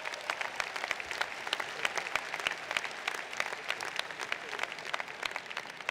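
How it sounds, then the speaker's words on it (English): A commencement ceremony audience gives a sustained round of applause, many hands clapping in a dense, even patter at moderate distance, with no voices standing out. "Let's have a round of applause for them."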